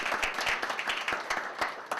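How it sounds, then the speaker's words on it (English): A talk audience gives a short round of applause: distinct, uneven claps from a modest crowd, fairly close and loud, fading slightly toward the end. "I just had to give those folks a round of applause"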